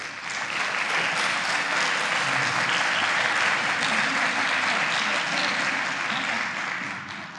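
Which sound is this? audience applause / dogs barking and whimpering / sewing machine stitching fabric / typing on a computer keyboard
audience applause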